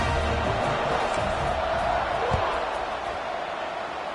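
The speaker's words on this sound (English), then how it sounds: "this crowd is feeling themselves after that last drive" Stadium crowd noise in the College Football 25 video game, a steady dense roar that holds at an even level across the whole stretch, with no talk over it.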